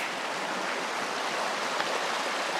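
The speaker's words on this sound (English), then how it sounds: "Here's Trail Creek." Trail Creek, a creek crossing an off-road dirt track on the Continental Divide Trail, rushes and burbles in a steady, dense flow of water noise, close and continuous with no voices.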